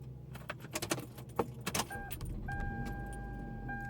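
A car engine settles into a low steady idle after a burst of jangling keys and clicks, with thin electronic chime tones sounding over the rumble.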